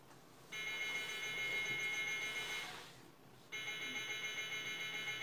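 A shrill electronic alarm in Minecraft rings continuously, dips and cuts out briefly, then resumes at the same steady pitch; close and fairly loud.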